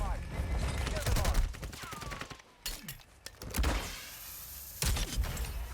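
A shotgun fires in a Warzone match, giving several sharp, loud blasts and bursts of gunfire among clattering game effects and mechanical clunks, with short quieter gaps between them.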